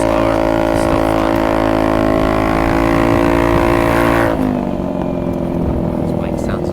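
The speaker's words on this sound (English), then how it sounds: "This bike sounds amazing," Honda Ruckus scooter engine running steadily while riding through the city, a loud continuous drone with buzzy harmonics that drops in pitch partway through as the rider eases off, with wind noise throughout.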